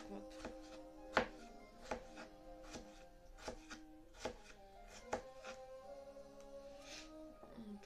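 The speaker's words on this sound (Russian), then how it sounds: "Ну и я режу типа помидоры." A knife chops tomatoes on a board in a home kitchen, a series of crisp, evenly spaced taps at close range, quiet overall with a few sharper strikes.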